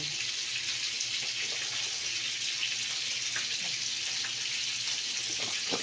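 Tap water runs in a steady, continuous hiss and splash while banana blossom is washed to cook ginataang puso ng saging, close and even throughout, with no talking.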